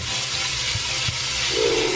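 Ground turkey, half a pound, sizzles and fries in hot vegetable oil in a pot, a steady hissing crackle with a couple of soft stirring bumps, close up and without any speech.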